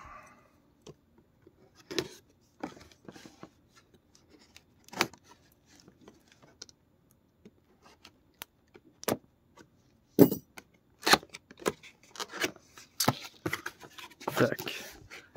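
Dragon Ball figurine box being opened, scattered close cardboard and plastic clicks, taps and rustles in a quiet room, growing busier toward the end, with someone talking briefly between them.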